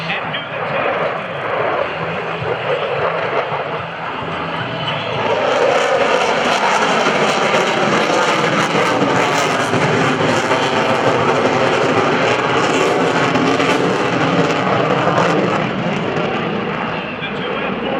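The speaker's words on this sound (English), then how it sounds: "The two F414 engines of the F-A-18 Super Hornet allow it to reach speeds well in excess of Mach 1" Twin F414 jet engines of an F/A-18F Super Hornet roar loudly as it passes at an airshow, the sound swelling into a harsh, broadband blast that sustains and slowly shifts in pitch.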